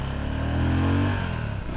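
Sothassi Classic 400 retro motorcycle pulling away on an open road, its engine note rising in a steady, loud drone for under two seconds with a slight dip near the end.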